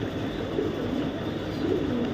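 Racing pigeons coo softly and low in a few brief phrases over a steady background hum.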